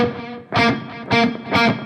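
A distorted electric guitar played through a Line 6 Helix preset with an Own Hammer 412 Mesa closed-back cab model repeats in rhythmic delay echoes, three strong pulsing chord bursts over a sustained tone.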